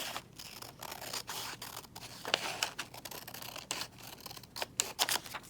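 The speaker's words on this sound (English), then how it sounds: "My scissors are on the right" Scissors trimming paper for a craft project make quick repeated snips and crisp rustling, close and quiet, with no talk.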